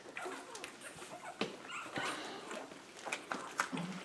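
Several small puppies whimper and yip in short, high-pitched bursts during bottle feeding, close by and overlapping, with faint rustling between the cries.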